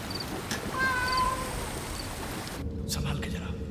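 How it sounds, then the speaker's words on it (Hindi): A cat gives a single drawn-out meow over a noisy background, fairly close, with some rumbling sound behind it. "ये तो बिल्ली है।"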